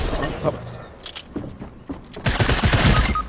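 Gunfire bursts in the video game Fortnite, loud rapid shots that cluster toward the end, mixed with game sounds and excited voices talking over them.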